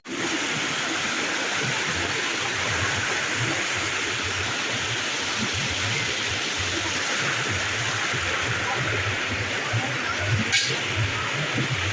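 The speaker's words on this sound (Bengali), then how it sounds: "এখানে একটা ঝর্ণা আছে ছোটোখাটো" A small waterfall at Khoyachora, Sitakunda, rushes continuously, a steady broadband splash and hiss with no voices.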